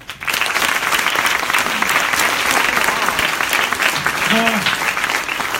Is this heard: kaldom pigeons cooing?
no